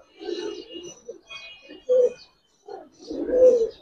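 Giribaz pigeons coo in short, soft, throaty phrases at close range, several bursts separated by brief pauses, with no talking.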